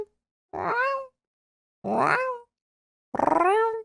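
A person's voice imitates a cat, giving three drawn-out, whiny meow-like calls separated by short pauses, close and clear with no other talk.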